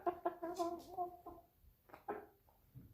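Chickens cluck softly nearby, a few short bursts of clucking and low calls separated by brief pauses, close and fairly quiet.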